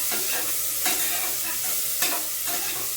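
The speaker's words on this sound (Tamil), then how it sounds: "இந்த எண்ணெயிலே நல்லா வதங்கும்" Onions and broken green chillies sautéing in hot oil, a close, steady sizzle with a few periodic scraping stirs of the spatula, no talking.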